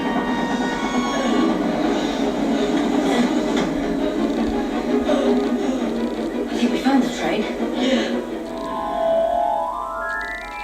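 A train rumbles along the rails with a steady rolling roar, rising squeals near the end, while a voice talks over it.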